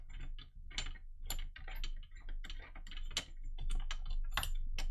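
A drum key turning the tension rods on a twelve-year-old kit's kick drum batter head, a run of close, crisp metallic clicks and ratcheting creaks in uneven bursts, with no talking.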